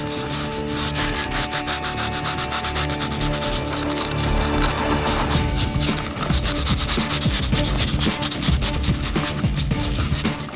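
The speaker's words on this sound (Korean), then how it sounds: "충전이 끝나고 나면 나무의 형태에 따라 우레탄을 다듬어 주는데요" Urethane foam used as filling in a tree trunk is trimmed to follow the shape of the tree, giving rapid, repeated rasping and scraping strokes. The sound is close and fairly loud and runs continuously for about ten seconds without speech.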